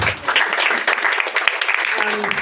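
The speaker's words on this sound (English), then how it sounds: "Please give a round of applause to Shelby." Dense, steady audience applause fills a Singapore political forum on animal cruelty as a former community cat caregiver and rescuer is welcomed, with a voice rising faintly near the end.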